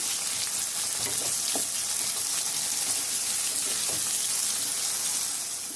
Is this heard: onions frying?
yes